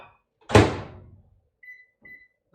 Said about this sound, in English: Then back into the microwave for